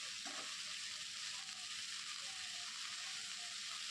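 Mixed vegetables and green peas fry lightly in a pan for a noodle dish, giving off a steady, even sizzle that holds without a break from start to finish, with no voices.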